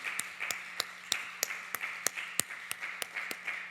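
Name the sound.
congregation clapping in church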